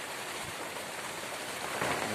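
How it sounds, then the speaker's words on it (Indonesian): Heavy rain driven by wind pours down at night onto a hut, a dense and steady hiss of drops that swells slightly near the end, with no voices. "Bahas hujan kita malam ini, hujan angin."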